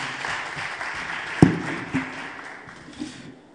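Audience applause at a professional recruitment event fades from a soft, steady patter of clapping, with a sharp close knock and a few scattered louder claps as it dies down.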